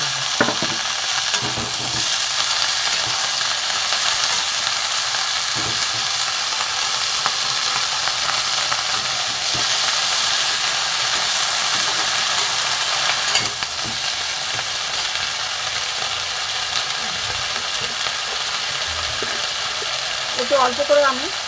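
Tender young bottle gourd stems fry with partly cooked vegetables in a pan, giving a loud, steady sizzle with occasional stirring scrapes throughout, while a voice speaks now and then.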